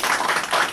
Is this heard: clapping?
yes